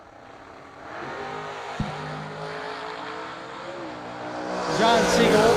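A Corvette race car revs at a drag event, its engine tone climbing and shifting before surging louder near the end, with an announcer talking over it.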